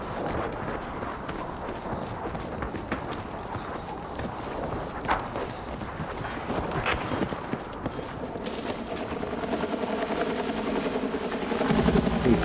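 Helicopter rotor chop from a video game, a steady dense whir that holds at moderate loudness through the stretch and swells slightly near the end, with scattered game effects layered over it.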